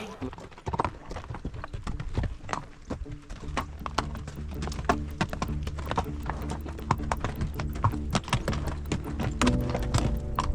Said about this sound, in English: How's your steed, Elise?